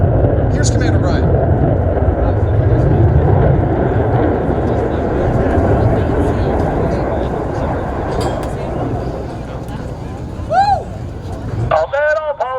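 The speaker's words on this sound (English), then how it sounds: "All four pilots will simultaneously roll their aircraft 360 degrees as they perform the Diamond aileron roll." Blue Angels jets rolling together in a Diamond aileron roll at a U.S. Navy air show in Columbus, a broad continuous roar of engine noise with a crowd murmuring underneath, ending in a sudden cutoff followed by brief squeaky tonal sounds.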